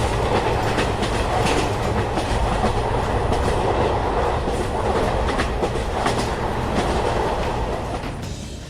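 A train rumbles steadily along the tracks with rhythmic clickety-clack from the wheels, loud and close, with no voices.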